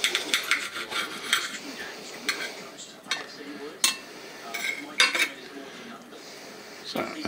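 Knife and fork scraping and clinking on a plate while cutting into home-smoked lamb or pork, a series of short scrapes and taps close by, moderately quiet, with faint background murmur.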